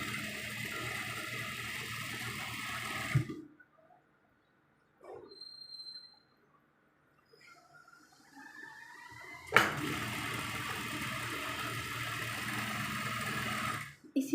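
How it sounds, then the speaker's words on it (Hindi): A sewing machine runs in two steady bursts, stitching a folded fabric border on a shirt sleeve, with a quiet pause between them and no talking. "ये हमने बॉर्डर को कर देना है फोल्ड और स्टिच कर देना है इसके साथ। बस कोशिश ये करनी कि आपकी सिलाई स्ट्रेट आए।"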